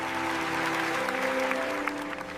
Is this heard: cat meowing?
no